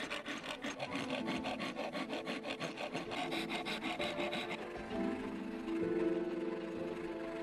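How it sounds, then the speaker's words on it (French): A coarse wood rasp files a wooden slingshot in quick, regular rough strokes, close and steady, before the scraping turns smoother and slower toward the end. "nous traitons la pièce avec une râpe à bois grossière pendant très longtemps"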